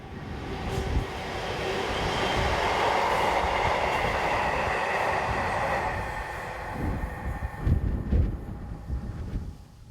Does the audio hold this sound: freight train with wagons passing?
yes